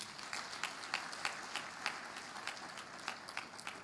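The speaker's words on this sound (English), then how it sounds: "please clap for yourselves" Quiet, scattered clapping from students at a diplomatic convocation, heard as distinct individual claps at a distance rather than a dense ovation.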